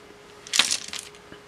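Dice and small rune pieces drop onto a surface in a short clattering burst of tumbling clicks, then settle and stop, with no voices.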